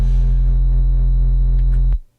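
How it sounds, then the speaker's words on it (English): Clean synth sub bass played through Waves MannyDistortion with the distortion level turned down, a loud, steady, deep hum sustained for about two seconds before cutting off abruptly. "If you turn the distortion level down, you've just got nothing but the direct sub."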